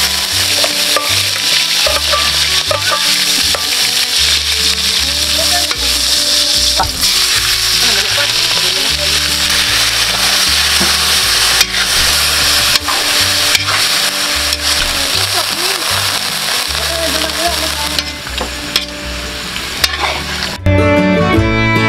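Garlic sizzles loudly in a hot pan for adobo, with steady frying crackle and occasional scraping and stirring throughout, ending in a short clatter.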